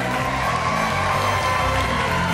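Applause and cheering from a crowd at a Sinterklaas show at Zuidplein, greeting the dancing Piets; a dense, steady wash of clapping and whoops from a large audience, loud and continuous with music tones running underneath.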